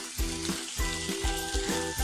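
Boiled potatoes with cumin sizzle in a pan as lemon is added, a close, steady frying hiss pulsing in a regular rhythm with each stir.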